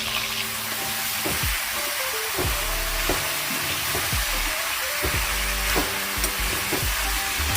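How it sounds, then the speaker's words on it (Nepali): Jackfruit pieces lightly frying in a little oil in a wok for a Nepali jackfruit curry: a continuous bright sizzle broken by regular scraping stirs every second or so, close and fairly loud. "त्यसपछि यसलाई म हल्का भुटिरहेको छु।"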